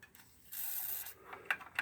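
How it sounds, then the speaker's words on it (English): WD-40 sprayed onto the gripper bow shaft of a Rowe jukebox, a half-second hissing aerosol burst near the mic, framed by small mechanical clicks and rubbing sounds. "Take your WD-40 and spray some in that right there"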